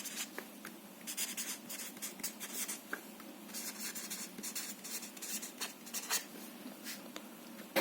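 Pen writing on paper close up, a quiet run of scratchy strokes and short scribbles in an uneven rhythm, with no talking.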